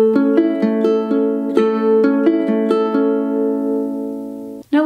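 A ukulele plays a fingerpicked pattern for a song at song tempo, bright plucked notes falling in an even repeating rhythm over ringing chords, close and clear with no voice.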